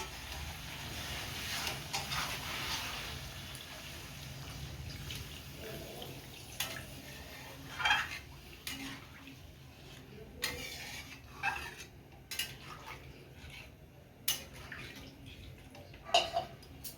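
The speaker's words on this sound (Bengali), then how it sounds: "এবার আমি জল দিয়ে দেব।" Water poured into a pan of spice-fried potatoes for Kashmiri dum aloo. A faint continuous splashing flow comes first, followed by scattered drips and small clinks, quiet and close, with no talking.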